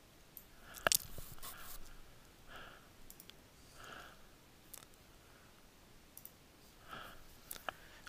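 Sparse, faint mouse button clicks while working in the Acme text editor, a few sharp isolated taps spaced seconds apart over quiet room hiss.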